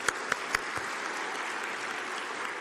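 A crowd at a parliamentary group meeting breaks into dense, steady applause, with a few sharp individual claps at the start.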